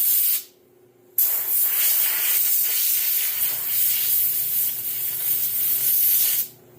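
Compressed air blowing grease and chips out of a thrown chain, a loud close steady hiss in one long burst after a brief blast and short pause, cutting off at the end.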